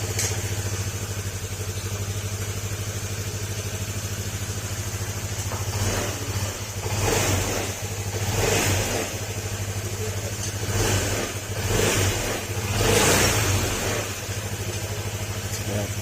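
A repaired car engine with a freed crankshaft, earlier making a helicopter-like noise after a long drive, idles steadily with a low hum and several brief revs rising and falling through the middle of the clip.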